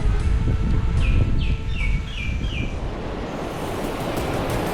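Ocean surf a few metres from a hotel in the Seychelles: steady washing waves with wind buffeting, and a bird chirping in a short run of calls early on.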